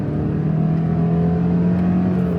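A 2025 Subaru Forester Touring engine revs hard and steady to the red line in third gear, droning loud and close with a rising, sustained tone and no voices.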